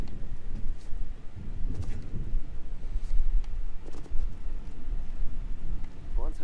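A storm in the Star Wars Jedi Fallen Order video game, with steady heavy rain hissing throughout and low thunder rumbling underneath.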